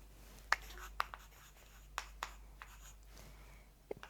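A pen writes an answer by hand on paper, giving faint scratching strokes with a few sharp ticks and taps as it touches down, quiet and close over a low background hum.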